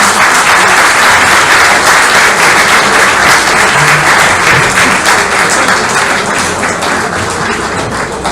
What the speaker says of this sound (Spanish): Le damos un nuevo aplauso.